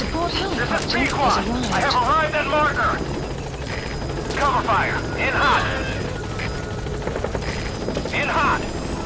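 A video game support helicopter's steady rotor drone runs throughout, with a voice talking over it in short bursts, in Metal Gear Solid 5.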